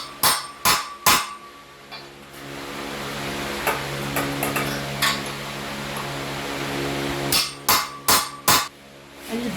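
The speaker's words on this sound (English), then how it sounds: "you're going to have to get a cold chisel or something of that description to sort of persuade this as you're cutting it" Hammer blows strike a cold chisel that is cutting apart metal parts of a motion sim platform. Sharp ringing metallic hits come in quick clusters at the start and again near the end, with a few lighter taps between them over a steady background hum.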